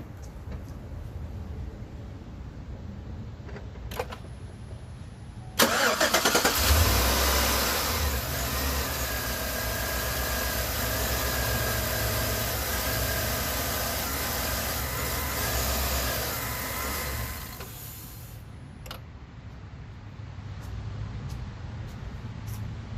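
A 2013 Chevy Suburban 1500 engine cranks and fires with a sudden loud burst, then settles into a steady idle for about twelve seconds before shutting off, after a fresh AC belt replacement; no talk.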